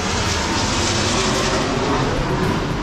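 An airplane flies overhead while a Sea-Doo RXP-X 260 personal watercraft is detailed, its broad engine roar loud and steady throughout with no one speaking.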